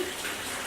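Bait fish and water dumped into a striper bait tank, giving a steady, close rushing gush of water that fills the whole short moment without a break.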